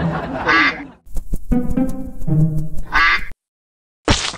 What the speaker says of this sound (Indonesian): Wah, malah anak bebek tuh.